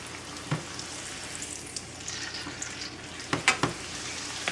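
Tortillas frying in a pan of hot oil for chicken enchiladas, a soft continuous sizzle with a few sharper spits and pops, close but fairly quiet, with no voices.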